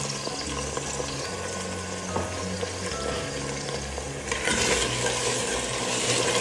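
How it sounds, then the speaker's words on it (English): Water is poured into a hot pot of frying oil while making domoda peanut butter soup, a continuous sizzle that swells into a louder, rushing hiss near the end. "Next, add in a little bit of water."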